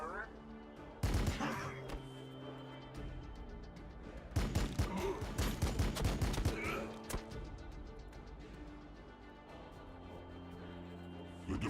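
In the strategy game Warhammer 40K Battlesector, rapid bursts of gunfire and heavy thuds rattle through a Daemonic Incursion battle. A loud volley erupts near the start and a longer barrage runs mid-clip, with a game voice speaking in between.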